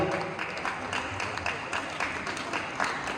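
Audience at a stage event claps to welcome guests being called up, a moderate, somewhat sparse patter of hands from a crowd, fairly steady across the moment without speech over it.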